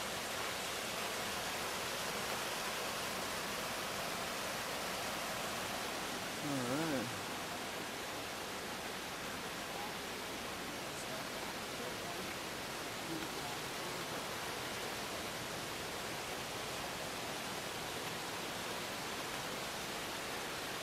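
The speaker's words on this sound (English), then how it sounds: "there's the waterfall" A California waterfall pours with a steady, broad hiss and rush that fills the whole stretch, and a voice briefly cuts through the constant roar partway in.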